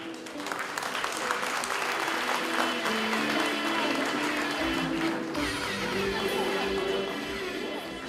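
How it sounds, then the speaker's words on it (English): Audience at an awards gala dinner applauding loudly and continuously for several seconds, then fading slightly toward the end. "Let's put our hands together, stomp your feet, clap your hands, make some noise for Jaduongo Ochiengolo"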